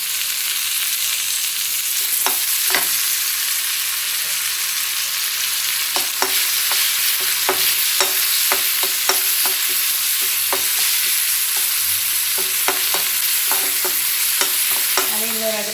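Garlic and tomato sautéing in a pan give a steady sizzle, with repeated light clicks and scrapes of a spoon stirring through it, close and without talk.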